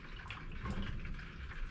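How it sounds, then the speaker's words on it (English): Water runs continuously through a darkroom developing tank to rinse off fixer, a steady close splashing flow with no talking. "we'll run a couple liters of water through here"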